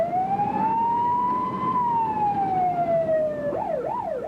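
An ambulance siren wails in a slow rising and falling tone, then switches to a faster warbling yelp, loud and close over road rumble.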